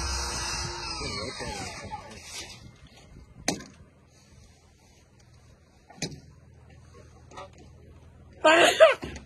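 A few short, abrupt sneeze-like bursts break through a quiet room, spaced several seconds apart, with the last one the loudest.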